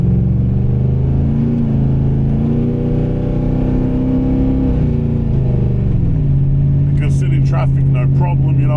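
Idling 355 stroker HSV Caprice V8 with a deep, lumpy, steady rumble that shifts pitch partway through, loud and close, with a voice talking over the end.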